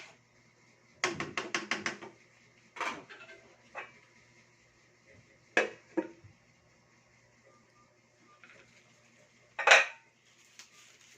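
A spoon clatters and scrapes against a pot while adobo cooks, in short irregular bursts of metallic clinks with quiet gaps between them.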